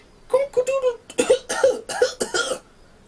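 A storyteller voicing a rooster character's coughing fit, a string of rough, throaty coughs in quick bursts, close and loud, performed by a human voice imitating the bird.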